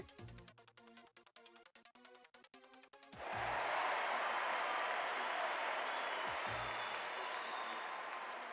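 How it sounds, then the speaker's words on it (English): Crowd roaring and cheering at a swim competition in the video game Persona 3 FES, a dense wash of applause that bursts in after a stretch of plucked music and holds loud and steady to the end. "The roar of the crowd fills the air as the participants put their hearts into competing"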